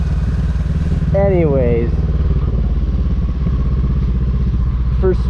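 A Honda CB500 twin motorcycle runs with a loud, steady engine drone throughout, close by, while a person speaks briefly over it.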